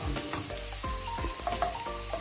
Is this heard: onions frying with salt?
yes